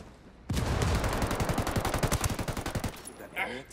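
Automatic gunfire in the video game Ghost Recon Wildlands comes as a loud, rapid burst of shots lasting about two and a half seconds, with a fainter tail and some game noise after it.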